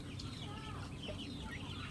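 Chickens cluck and murmur on a poultry farm, a close, continuous mix of short calls over a low background hum.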